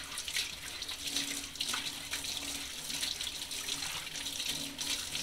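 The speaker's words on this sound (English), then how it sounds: "take the back of the comb here, the round part, and run that through the water" Water runs steadily over the rounded back of a paint comb at a paint shop cleanup sink, a constant, fairly quiet splashing flow.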